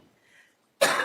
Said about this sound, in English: the coughing happens